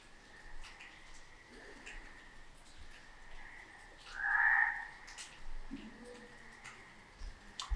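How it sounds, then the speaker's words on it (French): Frogs croak softly through the steady patter of rain, with one louder croaking burst about midway and a few fainter calls scattered around it. "entre le bruit de la pluie, le bruit des grenouilles"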